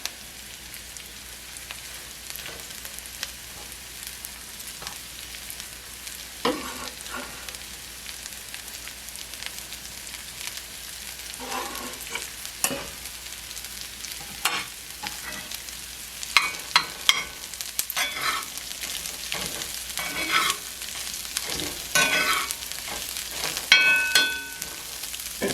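Broccoli and bacon pieces with onions frying in grease in a cast iron skillet, a steady soft sizzle with scattered crackles and stirring scrapes that grow busier toward the end, no talking.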